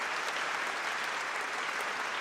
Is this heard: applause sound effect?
yes